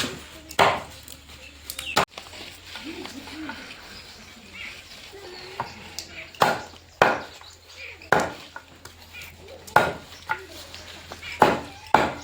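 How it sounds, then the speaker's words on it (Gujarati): Aak (Calotropis) plant cuttings are chopped, with sharp, irregular knife strikes recurring close by over a low steady hum and scattered faint background talk. "પહેલાં આકડાનું કટિંગ કરી નાખી"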